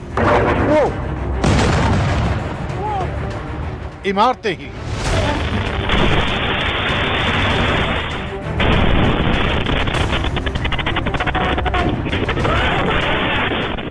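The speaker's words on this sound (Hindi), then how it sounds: "धमाके हुए" Heavy explosions and rumbling booms from an Iranian attack on Dimona, Israel, rolling in bursts, loud and dense, with a voice speaking over the blasts.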